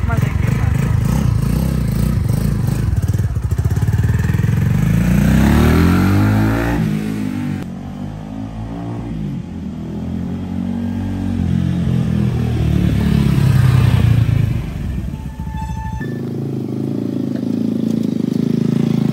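A single-cylinder 250cc motorcycle engine, on a 2023 Kawasaki Ninja 300 replica, starts and revs loudly, its pitch climbing and falling in repeated throttle sweeps, close by.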